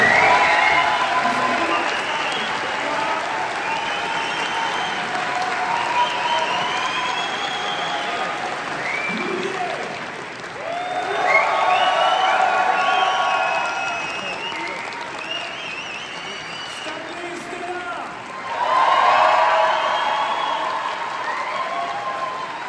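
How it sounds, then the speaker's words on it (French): Sustained applause from an audience at a French business award ceremony for company of the year, with cheering and whistles rising in two louder swells, voices faintly mixed in. "On va les découvrir sous vos applaudissements"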